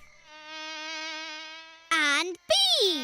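A cartoon character's voice imitates a buzzing bee with a single sustained, steady droning hum lasting about two seconds, followed by brief spoken voices.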